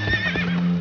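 A brief horse whinny rings out, a quick high shaky cry close by, over a steady background hum.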